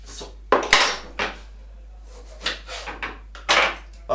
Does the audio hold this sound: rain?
no